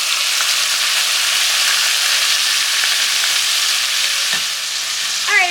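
Two pork chops fry in a pan with a loud, dense, unbroken sizzle close up, hissing steadily on its own with a faint clink near the end.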